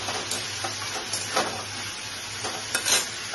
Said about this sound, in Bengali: এভাবে একটু মটনগুলোকে ফ্রাই করতে হবে, ঠিক আছে?